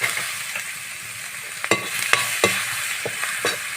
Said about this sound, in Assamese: পিঁয়াজটো ভাজি লওঁ